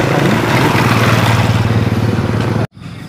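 A motorcycle backing up on a street, its engine a loud, close, steady throbbing chug that stops abruptly just before the end.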